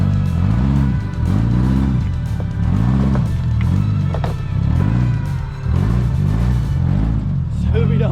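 A stock Subaru engine on an off-road trail revs in repeated rising and falling surges, about one each second, loud and close amid clattering and crunching from the trail.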